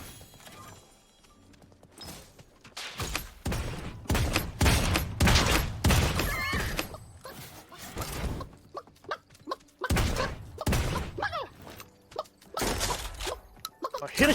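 Gunfire in the video game Realm Royale, repeated loud bursts of shots in clusters with short gaps between them, mixed with impacts and occasional voices talking.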